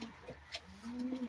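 Pigeons of a racing pedigree line, in a loft, give a few soft cooing notes, low and close, against faint background noise.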